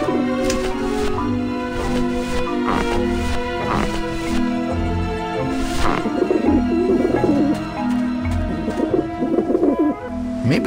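Pigeons coo repeatedly near a dish vent in the adventure game Grim Fandango Remastered, their soft throaty calls steady and close over a continuous musical background, with no talking.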